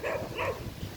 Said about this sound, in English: Well, there was a dog harassing me.